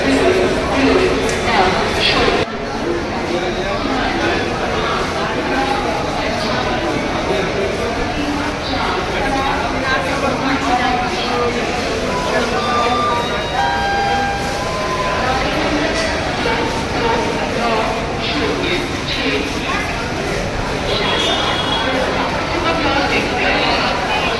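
Busy ambience at the ticket windows of Ahmedabad railway station: a steady wash of crowd chatter and indistinct voices with background clatter, continuous and moderately loud, after a brief dip near the start.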